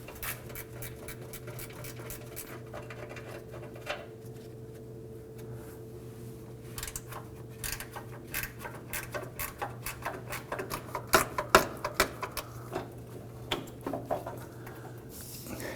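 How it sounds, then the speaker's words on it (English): A 10mm gear wrench works the fuel pump module bolts on a 2015-2020 Ford F-150 2.7L V6, giving soft, quick ratcheting clicks in uneven bursts that grow louder toward the end over a steady low hum. "Now we're using a 10mm gear wrench here to go ahead and remove these bolts."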